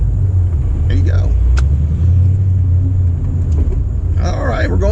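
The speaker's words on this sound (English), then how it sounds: "Now you can slowly let go of the clutch and you'll feel it grab, and then you'll just idle with it." A Ford Mustang Bullitt GT engine idles with a deep, steady low rumble as the clutch engages, heard from inside the cabin with people talking over it.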